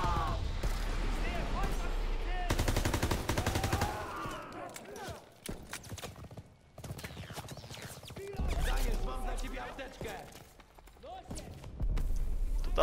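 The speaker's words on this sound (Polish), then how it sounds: "Kurde, co to jest? Jakiś karabin maszynowy." Rapid bursts of machine gun fire in a Call of Duty WWII D-Day battle, dense crackling volleys broken by short lulls, with voices speaking over the shooting.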